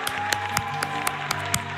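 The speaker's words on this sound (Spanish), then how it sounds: "el aplauso de la gente, por favor" Scattered clapping from a small audience in a Spanish TV studio, with sharp individual claps standing out at irregular intervals over a steady background hum and faint music, fairly quiet and brief.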